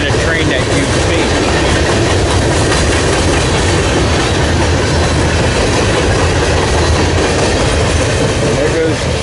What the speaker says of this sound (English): There goes Q300, heading north underneath the NS Mooresville line